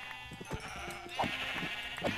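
Sheep in the Minecraft video game bleat several times as they are gathered on a survival farm, short nasal calls repeating over quiet background sound, with no talking.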